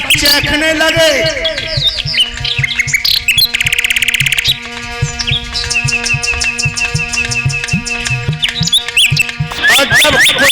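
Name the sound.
papiha birds chirping in trees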